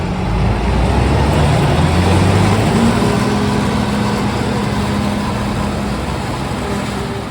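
A 1995 LTS-built Schlüter Euro Trac 1700 tractor works a maize field with a Kemper Champion 3000 header, its engine drone steady and loud throughout, with a rough mechanical rumble and no talk.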